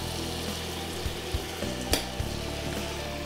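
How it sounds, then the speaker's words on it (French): Flour whisked into melted butter in a pan for a béchamel roux, a steady close sizzle of frying with a few sharp stirring clicks and scrapes, no talking. "Je fouette tout de suite."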